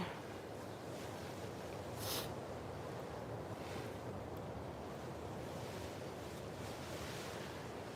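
Ocean surf washing continuously onto a beach in the Marshall Islands, with a soft steady roar, one brief louder rush early on and a light wind rumble.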